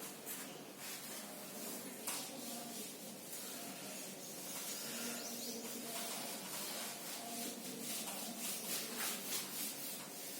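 A teacher rubs writing off a classroom board with a continuous rough swishing, brushing back and forth in quick strokes at close range, with no talking.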